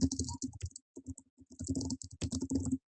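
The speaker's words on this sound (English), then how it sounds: "I can start typing" Quick bursts of typing on a computer keyboard, keys clattering close by in uneven runs with short pauses between.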